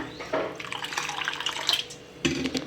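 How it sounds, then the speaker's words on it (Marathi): Water splashes into a container of sago in a short pour, with a second burst of pouring near the end; no one speaks. "आपण आता साबुदाणा बुडेल एवढं पाणी टाकायचं आहे आपल्याला"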